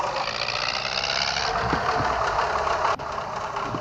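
An MTZ-82 tractor engine idles steadily and loudly, a continuous rumbling drone with a brief dip near the end.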